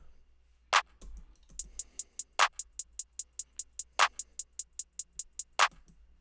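A drum pattern of steady crisp two-step hi-hat ticks with a sharper clap landing on beat three, repeating through a short loop.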